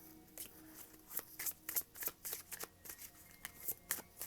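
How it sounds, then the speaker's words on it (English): Rapid riffling of a tarot card deck being shuffled, crisp bursts repeating in a quick uneven rhythm, close up and fairly quiet. "Shuffle my deck a little bit more."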